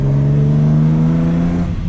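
A Nissan Skyline engine holds a steady, loud droning note, rising slightly in pitch and then easing off near the end, with no talking.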